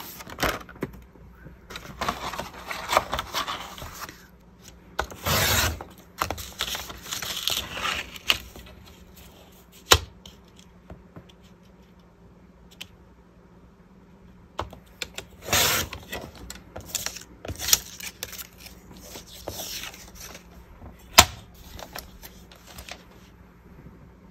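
A paper trimmer cutting cigarette cards, heard as scattered close clicks, slides and sharp chops with quiet handling of paper in between.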